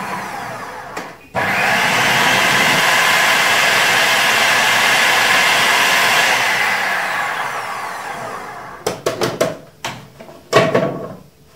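An electric mixer whirs steadily for several seconds while mixing yeast and salt into dough for a Sham El-Nessim cake, then stops, followed by a few clattering knocks and bumps.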